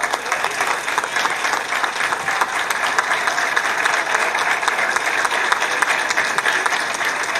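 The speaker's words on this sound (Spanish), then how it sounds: "Un aplauso para Fernando" An audience applauds for Fernando at a political gathering: dense, steady clapping from a large crowd that holds at an even level for the whole stretch.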